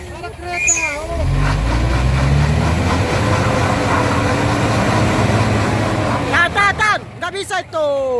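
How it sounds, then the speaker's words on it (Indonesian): A train's heavy rumbling passes close by for several seconds, fading as voices and a whistle-like call rise at the end. "Ada kereta."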